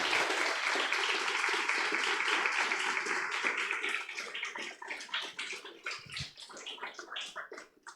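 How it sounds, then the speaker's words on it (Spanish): Church congregation gives loud applause to the Lord during a sermon, a dense wash of clapping that thins into scattered individual claps before dying away. "Le damos un fuerte aplauso al Señor"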